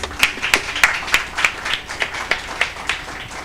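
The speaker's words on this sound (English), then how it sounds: "Can we give our panel a round of applause?" A few people at a live Black History Month campus panel with AU students clap for the panel in a sparse round of applause, about a dozen distinct, fairly close hand claps spaced irregularly over a few seconds.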